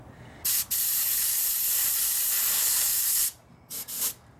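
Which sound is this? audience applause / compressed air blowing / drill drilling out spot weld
compressed air blowing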